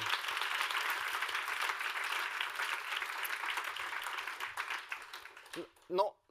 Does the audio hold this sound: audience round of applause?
yes